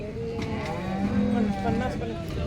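A cow gives a low, drawn-out moo amid the steady murmur of a crowded livestock market in Sangola, with voices chattering in the background.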